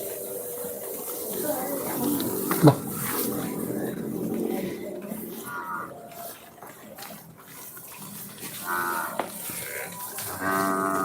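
Bull calves moo and low through a noisy outdoor farm scene after unloading from a truck, several calls overlapping at moderate distance, with a sharp knock early on.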